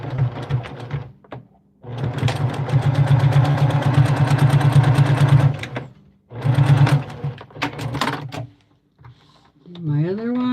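A sewing machine stitches through a fabric and batting bowl cozy in several runs, a fast steady mechanical whir in bursts of a few seconds separated by pauses, close and clear, with a voice speaking briefly near the end.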